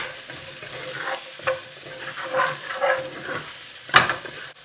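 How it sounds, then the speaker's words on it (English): Onions sautéing in a pan as they soften, a steady close sizzle with soft stirring scrapes and a sharper clink near the end. "get some onions in. Just want them to soften out."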